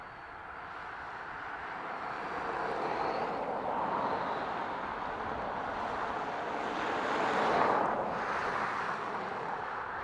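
Aer Lingus airliner passing at Dublin Airport, a moderate, rushing engine noise that swells twice before settling, with no voices.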